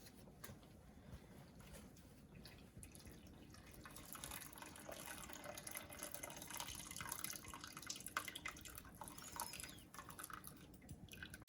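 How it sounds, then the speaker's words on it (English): Whey draining through cloth from homemade paneer, a faint, soft trickle and patter of liquid that grows slightly fuller partway through, with no talking. "Hold the 4 corners of the cloth so the whey drains away from it."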